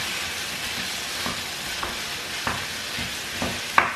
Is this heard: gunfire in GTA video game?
no